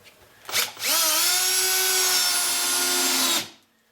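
A power drill drives a screw while beehive boxes are being assembled: a short burst near the start, then a steady loud whine lasting a few seconds before it cuts off.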